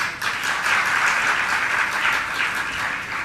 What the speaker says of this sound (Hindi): ताली तब बजा भैया जब जरूरत हो